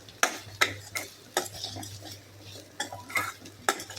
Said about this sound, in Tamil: இந்த எண்ணெயும் அந்த வெங்காயமும் நல்லா சேரட்டும்.